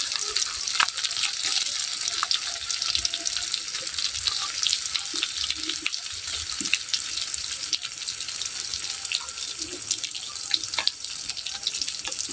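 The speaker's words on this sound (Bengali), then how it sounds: "এভাবে ঘুরিয়ে ফিরিয়ে একটু ভেজে নিতে হবে।" Boiled eggs fry in oil in a pan while being turned over, producing a steady loud crackling sizzle with small pops that runs throughout.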